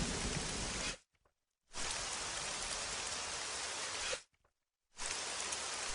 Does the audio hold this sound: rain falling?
yes